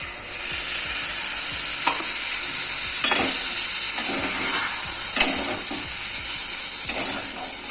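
Poppy seeds and potatoes fry together in a pan for a Bengali prawn poppy-seed dish, a steady close sizzle broken by several sharp scrapes and knocks of a spatula stirring, with no talking.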